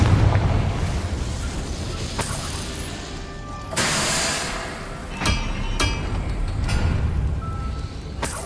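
A Confringo fire spell in the video game Hogwarts Legacy, bursting in loud booming blasts with crackling, smashing impacts scattered over several seconds against a dense rumbling background.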